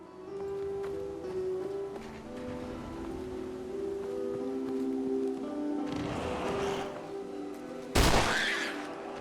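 Gunfire in Fallout 4, with a sustained rattling burst of shots in the middle and a sharp, loud blast near the end over a steady droning game soundtrack.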